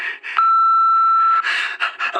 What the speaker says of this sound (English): Leave me a message after the beep and I'll get back to you at some point.